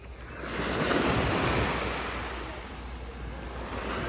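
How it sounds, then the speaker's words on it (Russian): Calm ocean surf on a Florida beach washes steadily with a soft, continuous rush of small breaking waves, mixed with gusts of wind buffeting the microphone. "Спокойный океан."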